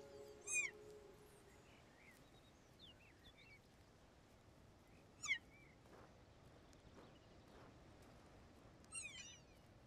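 Kittens give three brief, high, faint meows, spaced a few seconds apart, over a low, steady background hum.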